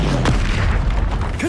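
A Bombarda blasting spell goes off in Hogwarts Legacy, a single deep boom with a rumbling low body over continuous game background sound, loud and close.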